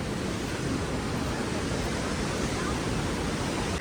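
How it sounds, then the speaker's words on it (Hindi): A loud river on the Kedarnath trek, in cold below freezing, rushes in a steady broadband roar that fills the whole clip, with no voices heard. "तेज़ आवाज़ बोलना पड़ रहा है क्योंकि नदी की बहुत तेज़ आवाज़ आ रही है।"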